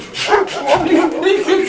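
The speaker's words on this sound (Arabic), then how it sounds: "كلب لطيف يا جماعه بس شرس." A dog barks and yips in quick repeated bursts, close and fairly loud, with whiny tonal edges between the barks.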